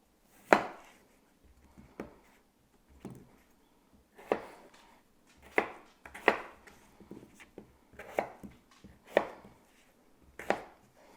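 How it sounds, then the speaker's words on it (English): A knife cubes vegetables on a cutting board for a sheet pan dinner, a dozen sharp, close chops at an uneven pace with quiet gaps between them. "So I'm just going to cube these up, they're going to roast in the oven here"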